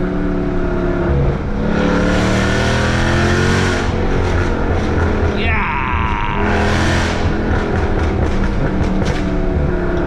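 A Bootmod3 Stage 2 tuned BMW F80 M3 engine roars loudly up close, revving hard, with blipping throttle bursts between gears as it downshifts and climbs again.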